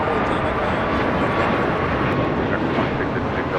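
A fixed-wing airliner roars at Los Angeles International Airport, a steady, loud jet rumble holding throughout, with faint voices beneath it.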